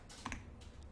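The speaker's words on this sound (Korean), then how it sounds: "키보드에서 엔터 한번 쳐볼까요" A single Enter key press on a computer keyboard during a word-processor lesson, a soft, brief click heard alone against quiet room tone.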